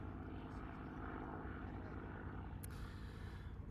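A P-51 propeller warbird flying at an air show over Jones Beach, New York, heard as a steady, fairly faint engine drone that holds throughout without talk.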